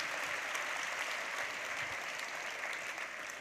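Faint, distant audience applause at a live broadcast evening event, a steady wash of clapping at low level that softens slightly toward the end.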